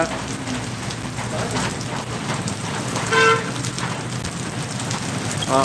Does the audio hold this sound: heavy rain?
yes